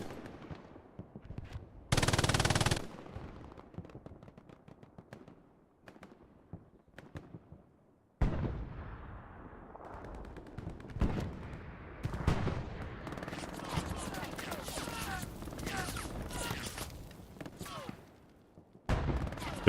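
Bursts of machine-gun fire ring out in a Hell Let Loose match on the Carentan canal-crossing map, rapid rattling volleys with sharp gunshots, loud and near, with pauses between bursts and other battlefield noise.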